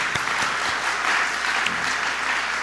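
A church congregation gives a steady round of applause for the choir and its conductor, with many hands clapping evenly and continuously throughout.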